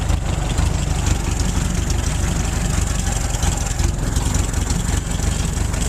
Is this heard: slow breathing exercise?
no